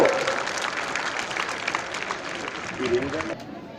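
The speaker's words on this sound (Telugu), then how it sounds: "చప్పట్లు కొట్టాలి ఎగిరినప్పుడు పతాకా వేస్తున్న అందరూ కూడా పెద్ద ఎత్తున కరతాల ధ్వనులతో" A crowd claps steadily as a flag is raised at an interstate hockey tournament ceremony in Vikarabad, dense applause throughout, with someone speaking over it.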